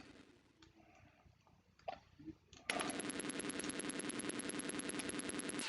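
An Amstrad computer game fires rapidly. After a quiet start with a few soft bumps, a loud, fast, evenly spaced stream of electronic shots begins partway through and continues to the end.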